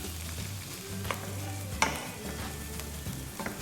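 A teaspoon of chopped green chilies sautéing in a pan gives a steady, close sizzle, with stirring scrapes and a few sharp clicks across the clip.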